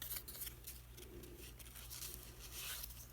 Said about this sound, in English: I'm going to cut it straighter.